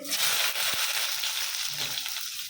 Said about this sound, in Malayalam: സവാള ഇട്ട് കൊടുക്കുന്നത് അതൊന്ന് വാടി ഒന്ന് വാടി